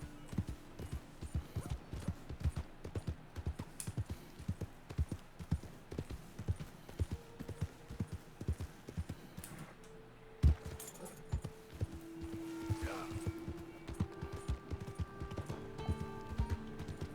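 Horse hooves clip-clop at a steady walking rhythm in the video game Red Dead Redemption 2, close and moderately loud, with faint game ambience and tonal cues later on.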